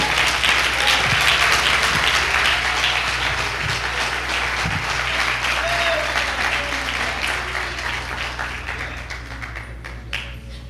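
A church congregation applauds together, broad sustained clapping that stays loud and slowly tapers off, with a low hum and a few faint knocks underneath.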